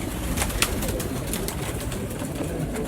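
Pure breeder pigeons coo in a continuous low burbling murmur, close and fairly loud, amid a busy background of other bird chatter.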